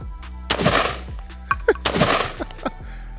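Rapid bursts of gunfire from a budget AR pistol being mag dumped, with two loud strings of quick shots and a few scattered single reports in between, sharp and close.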